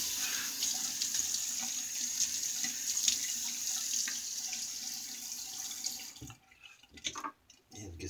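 A bathroom tap runs steadily into a sink as water is scooped up to wet the face before a shave. The flow stops near the end and gives way to a few drips and handling noises.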